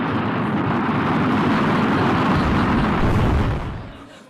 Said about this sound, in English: video of Elon's SpaceX Starship collapsing and exploding upon takeoff